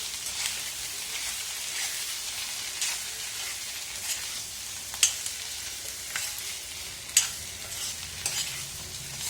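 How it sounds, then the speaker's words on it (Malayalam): Potatoes with an onion and chili mix fry in a pan with a soft, steady sizzle, broken by a few sharp scrapes and clinks of a spoon stirring, with no talking. "നമുക്ക് ഉരുളക്കിഴങ്ങും ഉള്ളിയുടെയും മുളകിൻ്റെയും മിക്സും നന്നായിട്ട് മിക്സ് ചെയ്തെടുക്കാം."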